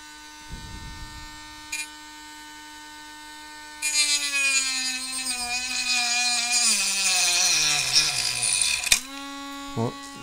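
A power tool with a cutting disc whines steadily while cutting a joystick, close and loud for several seconds, then cuts out abruptly as the disc flies off, followed by a brief clatter.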